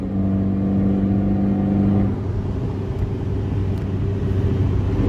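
Ford Ranger pickup fitted with a TD04 turbo, its engine droning loud and steady as it pulls through a gear, the low rumble shifting in pitch midway as the truck keeps accelerating.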